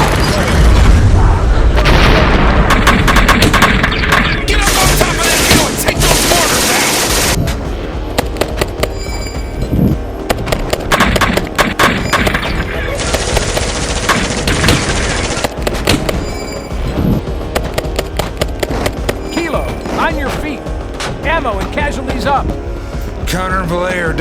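Mortar explosions and gunfire in a war film about Marines fighting overwhelming enemies: heavy booms, rapid bursts of shots and a dense, loud battle roar that runs almost without a break.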